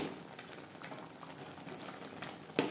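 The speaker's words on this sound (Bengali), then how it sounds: "টমেটো থেকে যেই জলটা বেরিয়েছে তাতেই টমেটো সেদ্ধ হয়ে যাবে" Tomatoes for a chutney simmer on low heat in their own released juice, a soft steady bubbling with a faint clink near the end.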